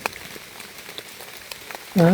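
Rain pattering in a forest during mushroom gathering, a soft steady patter of drops throughout with a louder sound breaking in at the very end.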